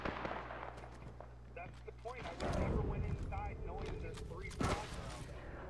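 Gunfire in the battle royale game Apex Legends, heavy booming shots and rumbling blasts under game sounds and a person talking, moderately loud with one sharper report near the end.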